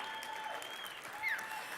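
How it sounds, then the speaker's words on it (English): A seminar audience at a business conference claps quietly and briefly in a short, faint patter, with a thin tonal hum running underneath. "Let's clap on that."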